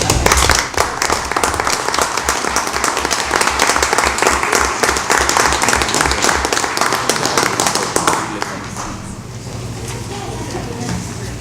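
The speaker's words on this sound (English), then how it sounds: "Let's join each other in a round of applause." Audience applause at a school board meeting: many hands clapping loudly and rapidly for about eight seconds, then thinning and fading into quieter room noise.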